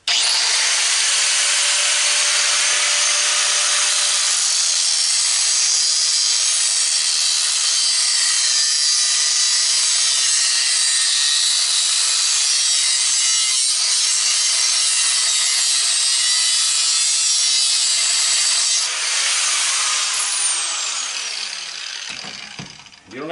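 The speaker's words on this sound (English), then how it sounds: "So I'll get my angle grinder." Long, loud, high-pitched shriek of an angle grinder cutting through thin metal on a push mower flywheel, steady for about twenty seconds before the disc spins down and stops.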